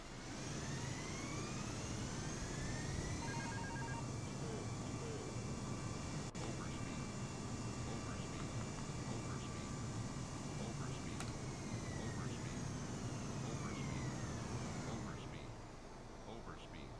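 Aircraft engine in a flight game held at full throttle on the ground, a loud, steady high whine and roar over a dense noise bed, sustained for the whole stretch before easing slightly at the end.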